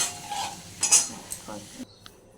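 Singhi and magur fish sizzle in a frying pan as they are lifted out, with short scraping and clinking of a spatula against metal before the frying sound cuts off.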